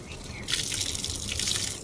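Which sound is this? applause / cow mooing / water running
water running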